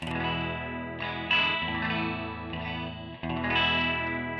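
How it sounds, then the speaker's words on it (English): A sustained, shimmering guitar tone with a lush chorus wobble, played in steady chords and notes with no voices. "because it's quite a nice chorus sound"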